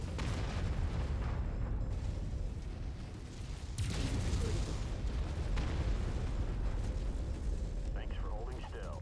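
Incoming missiles strike in a mech combat video game, filling the scene with loud, continuous rumbling blasts and booming impacts that surge and swell, with one heavier hit partway through.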